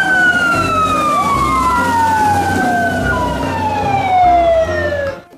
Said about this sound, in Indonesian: Ada truk pemadam kebakaran.